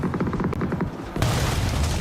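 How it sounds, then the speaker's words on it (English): Grenade explosions in a video game, a rumbling burst of booms building into a louder, sustained blast roar midway through, loud and close. "here's the explosions"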